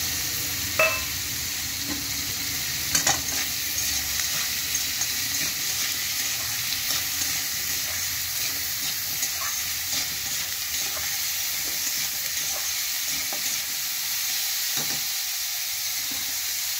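Chopped beetroot sizzles and hisses steadily in a pan for chicken soup, a close, even frying sound with a few faint utensil clinks and no talking.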